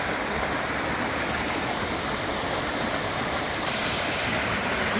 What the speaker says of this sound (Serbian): treba čuti taj huk vode i vodopada